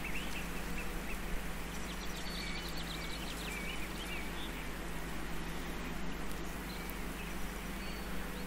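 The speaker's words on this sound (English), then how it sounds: "It's lovely to hear the birds singing." In the Farming Simulator 19 countryside, small birds chirp and warble faintly behind a constant droning hum and hiss, scattered bright calls drifting in and out of the steady background.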